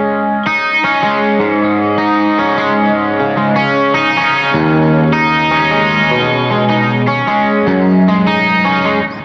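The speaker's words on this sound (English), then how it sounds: "My favorite sound of the moment is this glass sound that we've got kind of going on. A lot of chorus" An electric guitar played through a Fractal Axe-Fx III with a shimmering, chorus-heavy glass tone rings out in sustained chords, clean and lush with a slight edge, loud and alone.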